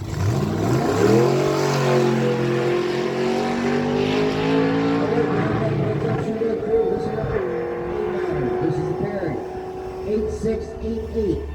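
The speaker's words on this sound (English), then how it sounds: "so Sheldon Hogan picks up the bye run into the next round, the 87 Chevy S10 from Burnetville, New Brunswick." A 1987 Chevy S10 makes a drag strip bye run at Miramichi Dragway, its engine roaring and revving steadily at close range under an announcer's continuous commentary.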